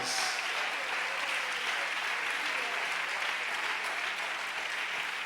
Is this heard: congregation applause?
yes